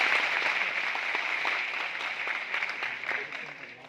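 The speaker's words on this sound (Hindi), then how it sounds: "कितनी ताली बजाओ उसके लिए" A crowded seminar audience in Indore claps for a girl, a dense patter of scattered handclaps that slowly thins and fades, with a voice speaking underneath.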